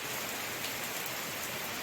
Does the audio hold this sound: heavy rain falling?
yes